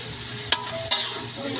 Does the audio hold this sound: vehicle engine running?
no